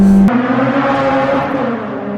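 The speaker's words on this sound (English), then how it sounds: "Bit of backfire there." Honda Integra Type R DC5 with VTEC conversion, engine note dropping sharply as a backfire pops off-throttle, then a steady droning hum under way on the road.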